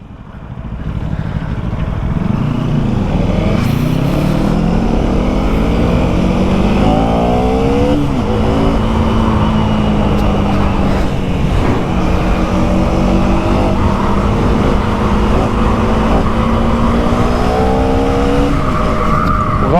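A KTM Duke 250 motorcycle engine runs loudly throughout a ride, its pitch climbing and falling through gear changes and repeated revving with no voices over it.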